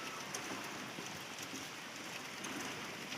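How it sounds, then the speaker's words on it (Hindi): Rain falling steadily over a village main road in India, a dense, even hiss of drops on surfaces heard from nearby but quietly, with no voices during the stretch. "ये देखिए बारिश हो रहा है"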